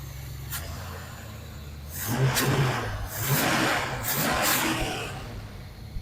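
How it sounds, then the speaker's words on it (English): A 1978 Camaro's 305 V8 idles roughly, then revs up in several strong surges from about two seconds on. It is loud and close, with no talk over it. "Now she sounds like a car. That thing's running really good."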